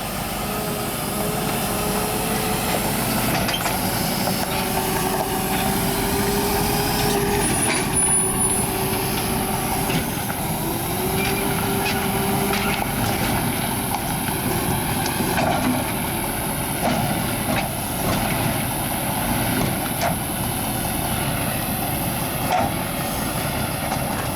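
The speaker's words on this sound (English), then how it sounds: "the tow truck has arrived" A tow truck arrives with a steady low engine rumble that continues for a long stretch, joined by a brief hiss of air brake and mechanical clanks, moderately loud throughout.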